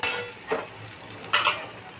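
Grated coconut frying in a pan on low heat, with a soft sizzle and two or three brief scrapes of a spatula stirring it, close and fairly quiet.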